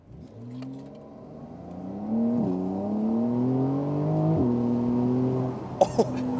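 A Porsche 911 in Sport Plus mode accelerates at full throttle, its engine note climbing steadily through two quick upshifts, loud and close from inside the cabin, ending with a couple of sharp clicks or thumps.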